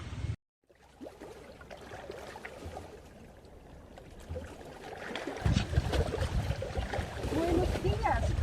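A ship's engine drones steadily on the water, running at half speed, a low continuous rumble that grows louder toward the end while people talk over it.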